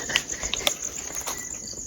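Insect chirping at night in a cemetery, steady high trilling with a few brief sharper pulses, fairly faint and continuous throughout with no voices.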